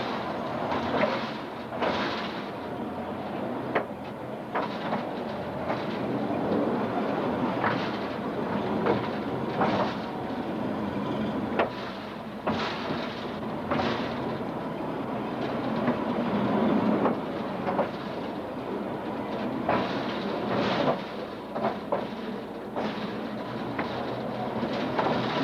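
A mine locomotive running on an underground rail line, a steady rumbling roll with periodic clanks and knocks from the rails, sustained close up throughout with no talk.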